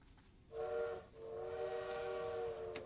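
A bird mimics a train horn or whistle with a loud, steady, tonal call: one short blast, then a longer sustained one, against quiet background hiss.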